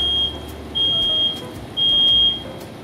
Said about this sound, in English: Smoke sets off the 10-year sealed battery smoke alarm 19 seconds after the fire is started.